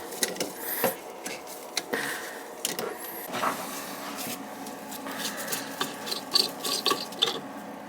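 Scraping, grinding turns of a rusted pop-up drain being unscrewed in a bathroom sink, with irregular gritty rasps and small metallic clicks, close up and without talk.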